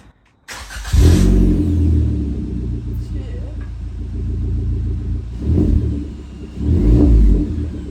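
A Suzuki Jimny engine starts for the first time with a newly fitted Torqit exhaust and idles with a deep, throaty exhaust rumble, swelling in a couple of revs, close by.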